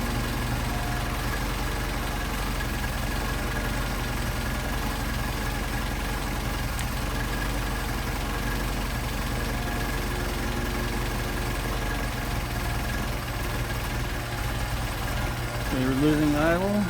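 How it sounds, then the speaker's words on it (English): A Mercedes 190SL engine on Solex 44PHH carburetors idles steadily at close range with a constant rumble, and a voice talks over it throughout. "you can see the idle will degrade as I screw it in"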